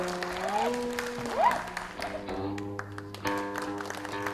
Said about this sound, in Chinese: 请以热烈的掌声欢迎他